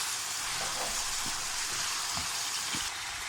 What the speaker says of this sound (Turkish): Güzelce kavurmuş olduğumuz soğanların üzerine bezelyeleri ekliyoruz. Tekrardan karıştırıyoruz.